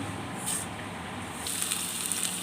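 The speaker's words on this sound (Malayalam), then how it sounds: "എണ്ണ ചൂടായി വന്നിട്ടുണ്ട് നമുക്കിതിലേക്ക് കടുക് ഇട്ട് കൊടുക്കാം" Mustard seeds dropped into hot oil in a pan give a soft, steady hiss that grows into a brighter sizzle with faint popping about halfway through.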